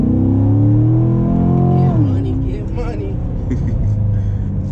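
A 2016 Corvette C7 Stingray accelerates hard with a loud, close engine and exhaust roar that climbs in pitch, drops sharply at a gear shift near the midpoint, and then pulls strongly again.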